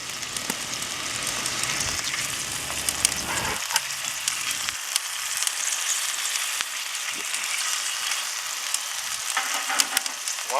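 Hot dogs searing on a Char-Griller Akorn kamado grill make a loud, steady hiss and crackle with scattered pops, close and continuous, with no talk.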